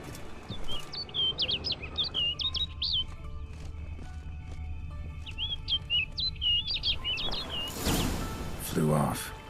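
A bird chirps in the Witcher 3 video game, with two bursts of quick, bright tweeting phrases over low ambient game sound, followed by a louder rustling passage near the end.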